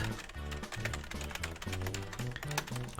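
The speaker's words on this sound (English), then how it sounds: "Can you hear me just, like, tapping this keyboard furiously?" Rapid, furious tapping on a computer keyboard during gameplay of an elephant puzzle game, with dense clicking keystrokes under steady game music, close and moderately quiet.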